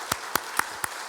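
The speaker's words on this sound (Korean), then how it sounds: "그런 의미에서 우리 박수 한번 하겠습니다." A church congregation at an afternoon worship service claps in unison: five sharp, evenly spaced claps in a steady quick rhythm, close and clear, with no talking.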